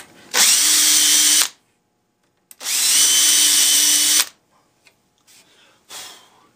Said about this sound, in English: Take my drill with a Vicks bit, which centers it in the hole.